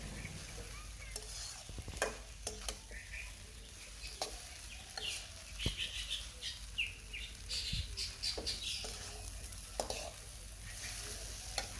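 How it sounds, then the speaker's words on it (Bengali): Vegetable noodles are stirred and fried with salt in a pan, making a steady sizzle broken by frequent scraping and clattering utensil strokes, close and without talk. "লবণটা দিয়ে ভালোভাবে মিশিয়ে নিচ্ছি।"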